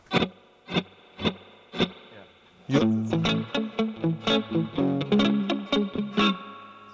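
An electric guitar plays through a Fender Blackface amp with spring reverb: evenly spaced single plucked notes ring out, then a busier run of chords and notes follows, bright and sustained.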